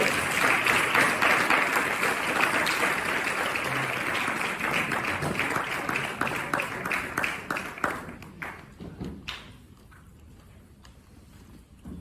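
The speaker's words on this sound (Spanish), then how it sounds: "pido para ellos un grandísimo aplauso" An audience at a school literary event applauds dancers who are about to perform Indian dances. The clapping is dense and sustained at first, then thins into scattered claps and fades out over the final seconds.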